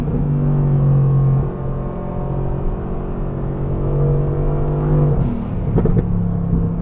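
A GTR sports car's engine pulls hard under acceleration, a loud, steady harmonic drone that shifts pitch partway through, heard up close from inside the car with no talking.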